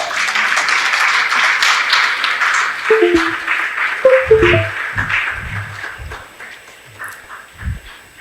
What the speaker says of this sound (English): a resounding applause for her until she gets to the lectern